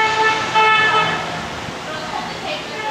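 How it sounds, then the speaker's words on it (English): A car horn toots once or twice from a passing vehicle amid steady road and traffic noise, with voices faintly present. "that guy always honks when he goes by"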